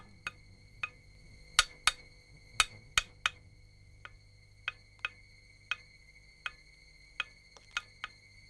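Sharp, ringing metallic taps from a carpenter's tools carving a wooden deity, struck at irregular intervals of roughly one to two per second, with a faint low hum underneath.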